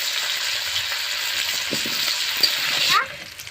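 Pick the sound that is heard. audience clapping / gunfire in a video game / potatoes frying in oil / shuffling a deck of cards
potatoes frying in oil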